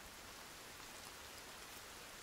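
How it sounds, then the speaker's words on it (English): Steady, even rain hisses in the video game Sons Of The Forest, a soft continuous downpour with no other sounds over it. "And of course the rain comes"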